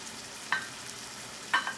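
Chicken and vegetables with cilantro and mint cook in a pan, a quiet continuous sizzle broken by two short scrapes or clinks about a second apart.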